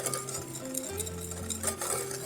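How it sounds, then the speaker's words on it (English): Sugar and strawberry juice are whisked together in a bowl for a homemade strawberry cobbler, a continuous close swishing and light scraping with faint clinks and no talking. "Whisk those two together."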